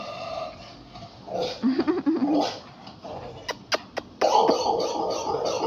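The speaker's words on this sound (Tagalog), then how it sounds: "Nakita na ako ng aso nag-iingay." A bulldog yelps and barks a few times in short bursts, fairly near, between quieter outdoor noise.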